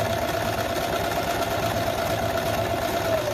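A sewing machine runs steadily at a constant pace while stitching a wire into a homemade fabric face mask, a continuous mechanical hum heard up close for the whole stretch with no speech.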